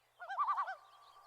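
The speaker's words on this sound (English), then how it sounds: "Even tremolos, which are usually used as alarm calls, are quite something to hear." A common loon gives a tremolo alarm call, a short rapid wavering laugh of about six pulses that trails off. It is clear and fairly close, with no other sounds.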